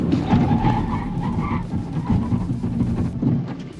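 An MG4 Electric car brakes hard, giving a rough tyre skid and scrubbing rumble that holds for a few seconds, loud and close, without talk.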